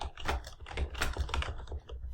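Rapid, irregular clicking of keys on a computer keyboard while entering text in CAD software, close and steady with no talk.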